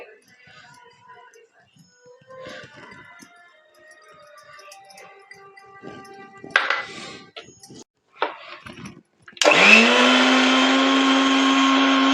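A mixer grinder grinds green chillies, mint and coriander into a paste, its loud steady motor whir starting abruptly late on after quieter kitchen clatter and faint talk.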